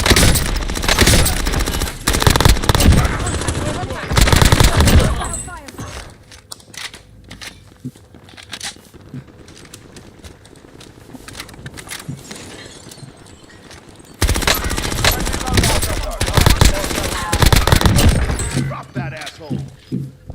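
Light machine gun fire in Modern Warfare on Rebirth Island, loud sustained bursts at the start and again near the end, separated by a quieter stretch of game sounds and voices.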